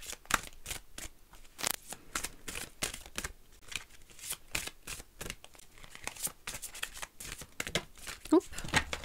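Viking rune cards are shuffled in a rapid run of crisp papery flicks and riffles, close and fairly quiet, with brief soft pauses between bursts.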